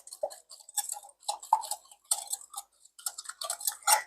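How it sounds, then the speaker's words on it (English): A whisk clinks quickly and unevenly against a bowl as granulated sugar is beaten into a mixture for Swedish cinnamon rolls, the light taps quiet and close with no talking. "Get that whisked in there."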